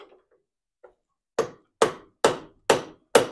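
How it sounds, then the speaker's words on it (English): A hammer smacks a car door hinge from an RA24 Toyota Celica clamped in a vise: five loud, sharp metallic strikes at a steady pace, each ringing briefly, after a few faint light taps. "I'm gonna try to smack it with a hammer."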